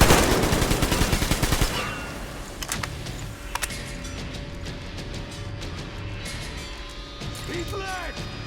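Rapid rifle gunfire from a first-person shooter set in Yamantau, played on the hardest difficulty: a loud burst of quick, closely spaced shots for about two seconds, then a quieter stretch with a couple of isolated sharp cracks and low game ambience.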